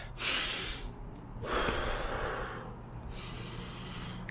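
Heavy, winded breathing from a boxer out of breath in a home boxing gym, with sharp breathy gasps and snorts coming in a few uneven bursts, close and fairly loud, with no talking.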